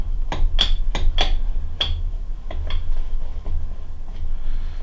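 A hammer strikes the eccentric on a South Bend lathe, making a series of sharp metallic taps, five quick hits followed by several fainter, spaced knocks over a low background hum.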